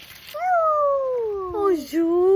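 A voice imitates a kitten's meow, a single drawn-out mewing cry that rises then slides down, followed by a second short rising mew, close and clear.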